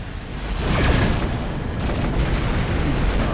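Missile explosions rumble in the space combat game Rebel Galaxy, a loud continuous barrage of deep booms and crackling blasts layered over a dense roaring background.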